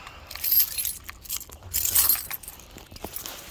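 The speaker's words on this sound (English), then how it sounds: "Use my keys to open this thing up." A bunch of keys jangles and clinks in quick, irregular bursts while being worked against a box to open a supercharger kit package, close and bright with no talk.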